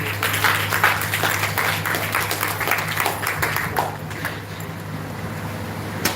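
Attendees at a handover ceremony for a Hurricane Beryl recovery project clap, a dense round of applause over a steady low hum that gradually thins and fades toward the end.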